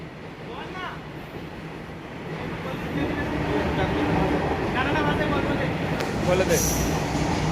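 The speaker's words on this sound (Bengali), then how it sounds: "এটা মালগাড়ি আছে।" A freight train rumbles past close by, its noise building steadily and then holding with rattling wagons and faint wheel squeal, while people talk nearby.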